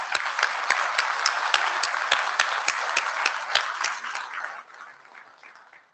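An audience at the IETF 122 plenary claps warmly, with distinct, crisp hand claps layered in a steady burst that thins and fades over the last couple of seconds.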